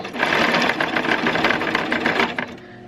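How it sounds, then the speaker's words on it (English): A sewing machine running a straight stitch across a T-shirt hem, a steady fast mechanical whir for about two and a half seconds before it slows and stops. "We'll just sew it across like this with the straight stitch."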